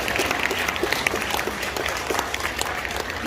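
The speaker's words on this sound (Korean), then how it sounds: "박수로 축복해 주시겠습니다." Wedding guests at a Christian church ceremony clap for the newly pronounced couple, a dense, loud, continuous round of applause filling the room without pause.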